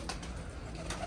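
Soft cooing of pigeons on the ground in hot weather, in short repeated phrases, fairly faint and a little distant, with no voices.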